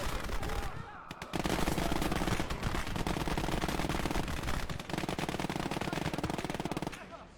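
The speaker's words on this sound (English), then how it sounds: "I need to get rid of that machine gun." Machine gun fire in the World War II video game Gates of Hell: Ostfront, dense rapid bursts rattling almost continuously amid battle noise, loud and sustained over several seconds.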